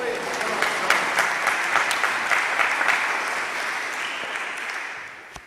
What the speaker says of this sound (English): please welcome our next presenter with a round of applause